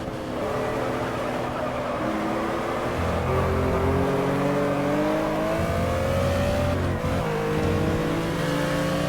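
Racing car engines in the video game GT Legends, several close engines droning and revving steadily with rising and falling pitch sweeps as gears change, continuous and loud throughout.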